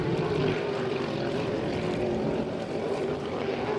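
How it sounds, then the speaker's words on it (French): The Miss Beauharnois racing boat's engine roaring past on the course during a powerboat race, a loud continuous drone filling the whole stretch. "Le Miss Beauharnois qui vient de devancer Abbott"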